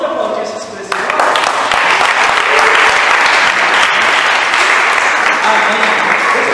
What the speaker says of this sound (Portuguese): Vamos aplaudir esses presentes.